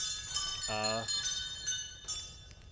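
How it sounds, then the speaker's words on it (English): Eerie bells ring in the video game Saturnalia, sustained metallic tones lingering with a few fresh strikes, while a brief voice-like hum briefly overlaps near the start. "listening to creepy bells"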